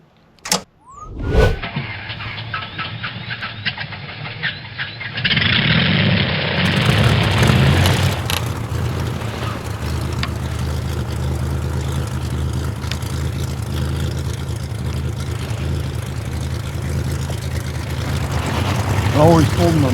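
A CSX SunSeeker Fat Tad's engine is cranked with a couple of sharp clicks, catches, and settles into a loud, steady close-up idle with a rising whine near the end.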